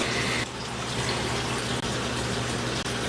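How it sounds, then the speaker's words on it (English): Liquid gushes and pours out continuously, a loud steady rushing splash that runs alone without any talking. "It's pouring out."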